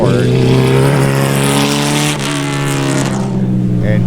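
Spec Racer Ford race cars roar past on the Sebring track in an SCCA race, loud sustained engine drones with a brief dip as one car passes and another follows close behind.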